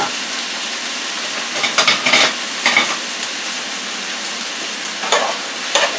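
Medium onions sizzle steadily in a hot pan while being stirred, with a continuous frying hiss punctuated by several scraping, clattering bursts from the stirring utensil.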